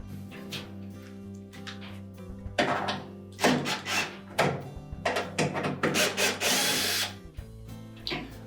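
A power drill drives screws into the plastic housing of a Whirlpool dryer during a blower wheel replacement, whirring in several short close bursts separated by pauses.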